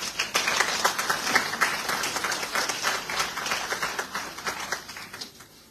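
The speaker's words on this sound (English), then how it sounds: "Give him a round of applause." Audience applause at a book launch for a book on Dominica, steady dense clapping from a crowd that holds for several seconds before tapering slightly at the end.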